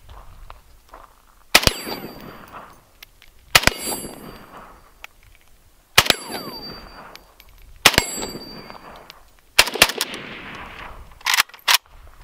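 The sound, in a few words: unsuppressed 7.62x39 rifle gunshots hitting steel targets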